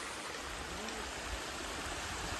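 A mountain stream swollen after rain near Malnath Mahadev hill in Bhavnagar rushes in a steady, close, even wash of water noise with no voices.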